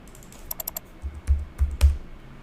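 Clicks and taps of typing on a computer keyboard, entering numbers into charting software; a quick run of light keystrokes followed by a few heavier, spaced presses, close and alone with no talk.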